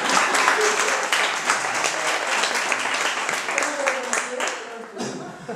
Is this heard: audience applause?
yes